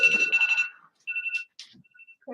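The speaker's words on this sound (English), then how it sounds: "What I got an alarm for?" A phone alarm rings with bright electronic tones, a dense burst of tone pulses followed by shorter beeps and brief pauses, close and fairly loud with no talk over it.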